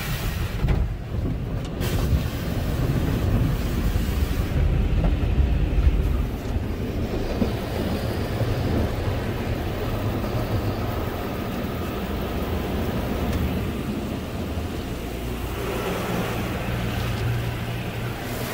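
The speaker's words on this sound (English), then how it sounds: "And then we have Motor City Washworks dryers." Motor City Washworks car wash dryers blow with a powerful, steady roaring whoosh, loud and continuous throughout, with slight swells in intensity and no voices.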